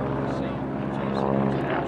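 A propeller airplane at a county air show drones steadily and loudly throughout, a continuous engine hum with people talking over it.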